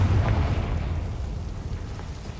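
A Confringo blast spell erupts in Hogwarts Legacy on Xbox Series X: a loud, dense rumbling burst that swells at the start and rolls on steadily for a couple of seconds, alone without voices.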